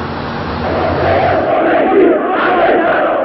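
A huge crowd in the streets of Tehran in January 1979 celebrating the Shah's departure: a loud, continuous roar of massed cheering and shouting voices, surging slightly, heard through thin archival sound.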